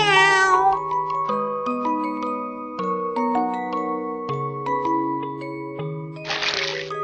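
A cat meows at the start, a short tonal cry, followed by steady electronic music notes with a brief burst of noise near the end.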